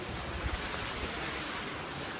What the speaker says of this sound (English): And then of course, there's the waterfall over here.